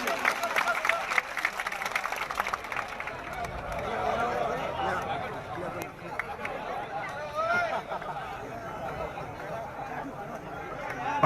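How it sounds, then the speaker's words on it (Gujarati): A crowd at a village gathering in Shamsherpura applauds as a guest is welcomed with a turban. The clapping is dense and steady throughout, mixed with crowd chatter and a voice over a loudspeaker. "શમશેરપુરા સરપંચ સાફો જોરદાર તાળીઓથી આપણે વધાવી લેશું"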